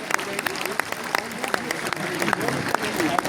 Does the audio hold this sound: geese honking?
no